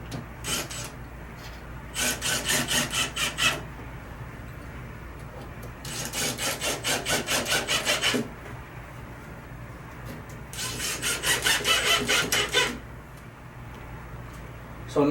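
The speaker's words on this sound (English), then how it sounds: "And then with the cordless drill you set them in." A cordless drill drives screws into a frameless drawer base cabinet panel during assembly, heard as three close, loud bursts of whirring, rattling drive a few seconds apart with quieter pauses between them.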